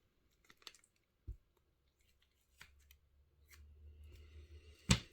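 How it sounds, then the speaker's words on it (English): Meat scissors snipping through raw bacon, a few sharp isolated cuts close by with quiet pauses between and a louder final snip. "A pair of meat scissors really makes this very easy to do."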